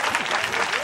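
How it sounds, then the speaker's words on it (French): A church congregation claps for the Lord in a dense, continuous burst of applause that is fairly loud and close throughout the brief moment. "Clap for the Lord."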